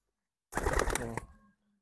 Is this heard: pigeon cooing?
yes